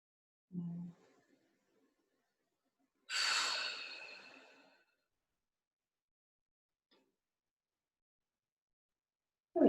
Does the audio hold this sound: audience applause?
no